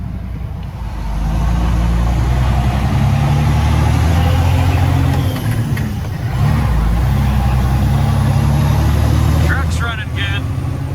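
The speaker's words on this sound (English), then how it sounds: "Truck's running good." A farm truck's engine runs steadily near the microphone, a strong low rumble holding through the whole stretch with slight swells, while a person talks over it.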